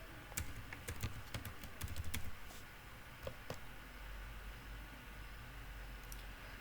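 Quick burst of keystrokes on a computer keyboard as a password is typed, a rapid cluster of clicks followed by a few isolated taps over a low background hiss.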